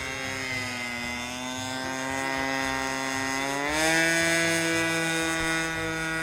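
A Kellett-kit autogyro drones steadily on a gusty, into-the-wind approach, its engine and rotor giving a strong harmonic hum that rises slightly near the middle before settling, loud and continuous with no talking.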